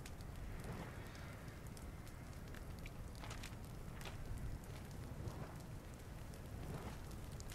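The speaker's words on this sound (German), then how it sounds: "So, langsam muss das Feuer mal abklingen" A fireplace fire burning steadily in the video game Little Inferno: a continuous dense crackle and hiss with scattered sharper pops, constant in level throughout with no voices.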